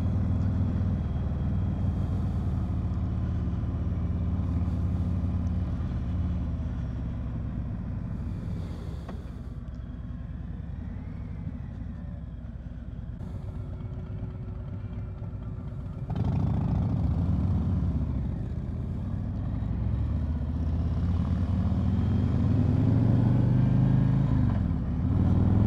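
A 2020 Harley-Davidson Street Glide with heel-toe shifter runs on the road, its engine a steady low rumble that swells with throttle toward the end.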